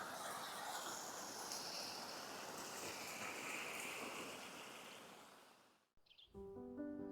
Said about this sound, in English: Getting a bonus waterfall right here.